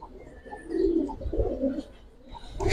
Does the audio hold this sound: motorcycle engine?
no